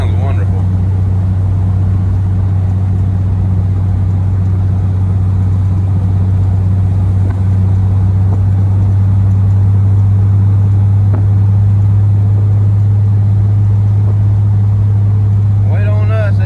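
A custom Studebaker Roadster's engine hums with a steady low drone while driving, heard from inside the car under road noise and a passenger voice talking.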